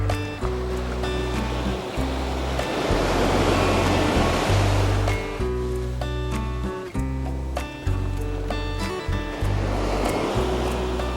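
Ocean surf on a New Jersey beach, a loud continuous wash of breaking waves with repeated crashing surges and low rumble, no voices.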